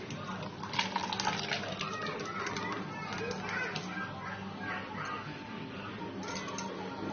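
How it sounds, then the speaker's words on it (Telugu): Blended ragi and coconut milk is strained, giving a continuous close trickling, splashing flow at moderate level while someone talks over it. "పాలను ఇలా వడబోసేసుకుందాం"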